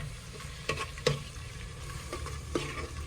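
Hot water poured into a pot of chicken biryani masala hisses and sizzles steadily, with a few soft clanks and splashes rising over the continuous bubbling.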